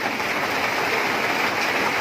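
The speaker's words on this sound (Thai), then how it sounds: "ฝนตกแดดออก" Rain falls on a high hillside in sunshine, making a dense, even hiss that stays loud and unbroken throughout, with no voices.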